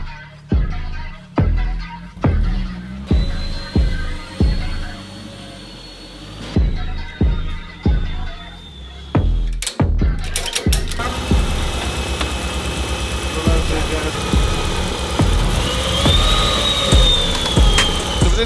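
A Nissan S15 fitted with a Toyota four-cylinder engine runs strapped to a dyno. It starts with a string of short, loud revving blips, then settles into a sustained, loud roar with a rising whine near the end.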